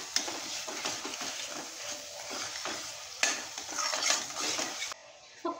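Masala with dried little prawns is stirred in a pan. A spoon scrapes in repeated strokes over a continuous oily sizzle, close and fairly loud, with no talking.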